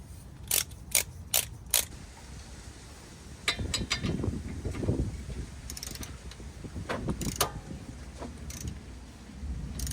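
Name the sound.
torque wrench ratcheting while tightening steering stabilizer bolt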